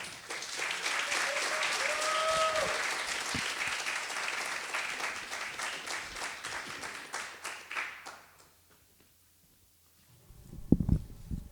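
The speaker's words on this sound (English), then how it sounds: "So please clap for Nico" Audience applause at a poetry reading in a cafe, sustained steady clapping from a small crowd for about eight seconds before fading to silence, then brief nearby voices.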